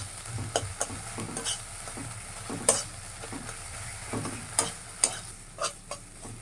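Mustard paste frying in oil in a pan for a Bengali mustard mash, giving a steady soft sizzle with scattered sharp clicks and scrapes as it is stirred, close and moderate in level.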